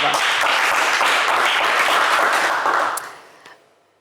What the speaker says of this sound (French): on vous applaudit bien fort